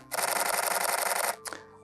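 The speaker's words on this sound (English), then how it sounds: "My very favorite thing so far is the sound of the shutter." Rapid burst of Canon EOS R5 shutter clicks, a loud close mechanical chatter lasting just over a second, followed by one short final click.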